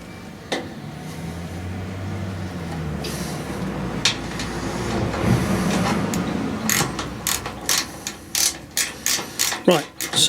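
A ratchet with a 1/2 inch socket tightening diagonal bolts on rear bump stops of an MGA 1600 being restored, starting with scattered clicks over background noise and ending in a rapid rhythmic run of close ratcheting strokes.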